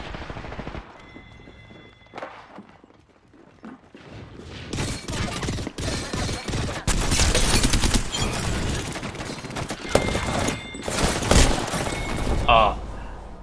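Rapid bursts of video game rifle fire in a first-person shooter match, loud and dense, with repeated volleys starting after a quieter opening and continuing through the end, mixed with other game effects and occasional talking.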